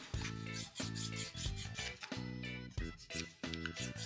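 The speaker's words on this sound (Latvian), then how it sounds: "vīlējās viņš perfekti un viņa putekļi nevizuļo gaisā" A thin nail file rasping over a hard gel nail with short, steady back-and-forth strokes, close and fairly loud, in a rhythmic rubbing pattern with brief pauses between strokes.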